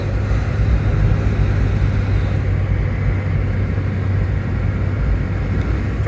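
An Alfa Romeo 146 is driven along a twisty mountain road in Tuscany, Italy, giving a steady, unbroken drone of engine and road noise heard from inside the car.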